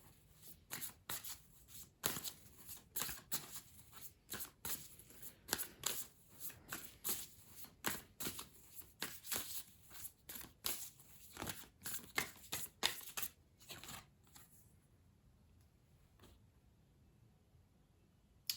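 Tarot cards shuffled by hand, a long run of quick crisp riffles and slaps in an uneven rhythm, close and clear, then fading to near silence at the end with no talking.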